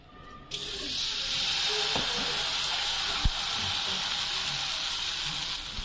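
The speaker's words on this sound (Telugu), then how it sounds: "ఆయిల్ అప్లై చేసి ఈ ప్యాన్ కేక్ పిండిని దాని మీద వేయాలి." Chocolate pancake batter hits a hot, oiled pan and breaks into a steady, bright sizzle, with a few faint clicks and taps from the pan scattered over the hiss.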